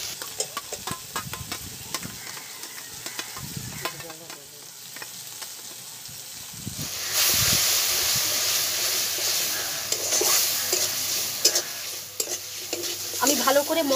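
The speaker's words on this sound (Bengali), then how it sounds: "আমি ভালো করে মশলার সঙ্গে চিতি কাঁকড়াটাকে কষে নেব" Crab (chiti kankra) frying in a pan with spices, sizzling and hissing while a spatula scrapes and stirs it, the sizzle swelling louder partway through as the cooking intensifies; no speech.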